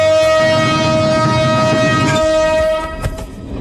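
A train horn blares loud and steady for close to three seconds, then cuts off, leaving the rumble and clatter of rail cars moving off, with no talk over it.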